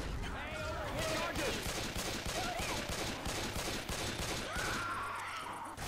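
Rapid gunfire from survivors shooting at a jockey in Left 4 Dead, dense bursts of shots rattling continuously under excited shouting players.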